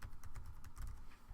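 A computer keyboard clicks out a short quick burst of keystrokes for a file name, faint and close, lasting barely a second.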